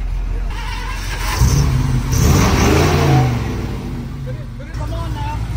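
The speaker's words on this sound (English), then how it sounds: "Will it start? Yeah, it'll start." A supercar engine cranks and catches, then revs up in a couple of rising surges before settling to idle, with people talking over it during an off-road outing.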